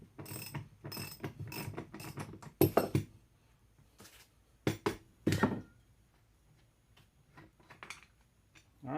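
Ratchet with a 1 1/16 inch socket breaking loose a Loctited steering stem nut on a KTM motorcycle: bursts of rapid close clicking and metallic pawl ticks, with a sharp clank between strokes and quieter pauses.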